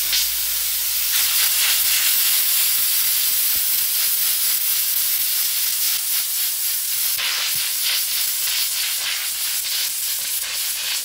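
A pressure cooker releases steam in a strong, continuous hiss that stays steady and loud throughout, with slight surges and no talking.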